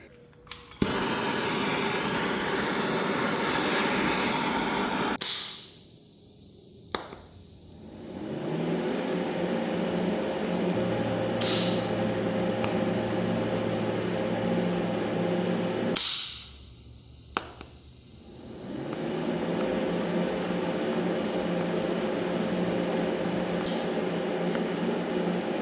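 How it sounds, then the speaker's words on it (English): TIG welding on a pipe in a shop, a steady hissing, buzzing arc held for several seconds at a time, with two short pauses between welding passes and no talk. "when I TIG weld this one on"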